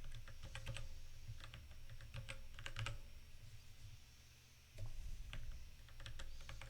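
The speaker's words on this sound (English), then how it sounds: "Okay, so I type all the x values." Numbers are typed on a computer keyboard in quick, irregular bursts of soft, close key clicks with short pauses between them, heard alone and faintly.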